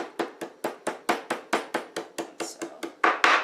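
Fresh ginger being minced with a knife on a cutting board for kabobs: about thirteen sharp, evenly spaced chops in a steady rhythm, close and clear, with no talking.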